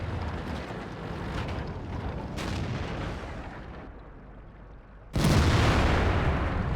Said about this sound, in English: Artillery's taking a little shot there as well